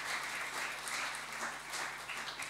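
A church congregation applauds after a sermon: a continuous wash of clapping from many hands, steady and moderately distant, with no speech over it.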